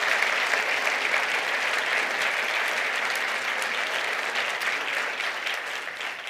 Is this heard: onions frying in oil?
no